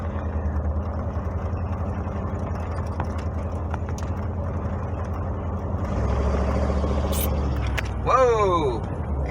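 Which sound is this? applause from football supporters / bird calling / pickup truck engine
pickup truck engine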